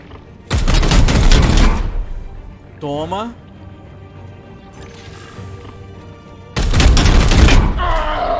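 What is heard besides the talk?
gunshots in a video game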